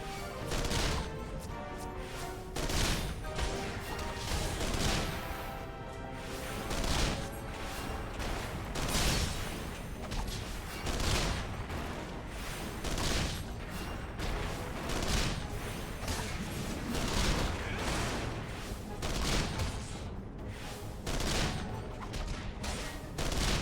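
Wedge firing in Final Fantasy XIV: a steady stream of gunshots and impact crashes repeating every second or so, loud and continuous over a busy game soundtrack.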